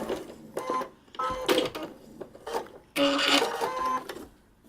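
A sewing machine stitching a paper-pieced quilt block runs in short uneven bursts, with brief pauses between runs and a longer final stretch before the stitches are locked.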